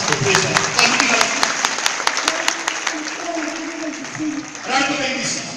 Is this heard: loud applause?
yes